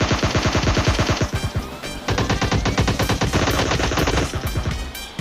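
Tommy gun firing in PUBG Mobile Lite during a duo versus duo match, loud rapid automatic bursts of gunfire with a brief break, close and dominant with no talking.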